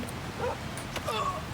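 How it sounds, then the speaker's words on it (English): A dog in the video game Oblivion Remastered gives a couple of short yelping, whimpering barks, fairly quiet and distant over a low ambient game soundscape. "Is that a dog?"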